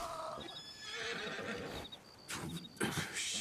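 Horse whinnying in the video game Red Dead Redemption 2, with several neighs and hoof clip-clops over game ambience and no talk during the sound.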